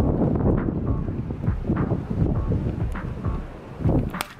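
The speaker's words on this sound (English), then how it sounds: "it's kind of windy and cold out there" Steady, rushing wind through a slightly opened window buffets the microphone with low rumbling gusts, loud and continuous, swelling slightly near the end.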